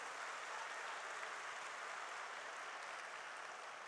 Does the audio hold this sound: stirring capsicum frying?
no